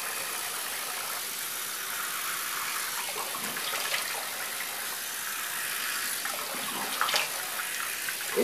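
Tap water runs in a steady, even hiss that keeps going without a break, fairly quiet and close. Only a few faint knocks rise above it near the end.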